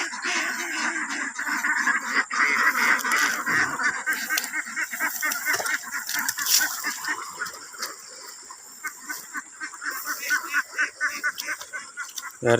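A flock of 13-month-old ducks in a field gives continuous overlapping quacks and honking calls, fairly close and busy throughout, with rustling underneath.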